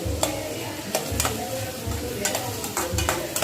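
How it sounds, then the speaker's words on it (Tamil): Chopped onion leaves being sautéed in a pan for homemade paneer fried rice: a steady sizzle broken by repeated scraping stirs of a utensil against the pan, close and clear, with no talk. "ஆனியன் லீஃபை போட்டு வதக்குறோம்"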